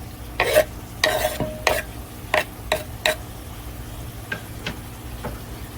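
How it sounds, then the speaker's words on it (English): Red onion sizzles in a pot for a one-pot hamburger macaroni as it is stirred in, with several distinct scraping stirs over a low steady frying hiss. "Now we're going to come in with some red onion."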